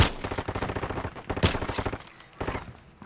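Gunfire in the game Call of Duty Modern Warfare III, loud rapid rhythmic shots in two bursts with a short lull between, close and harsh, with no voices over it.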